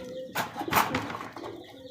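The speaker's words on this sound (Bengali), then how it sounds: "লাল টকটকে চোখ সেম চোখের দেখেন জ্বালালি কবুতর" Jalali pigeons with bright red eyes give a short, soft coo close by, a single burst of cooing in a quiet setting.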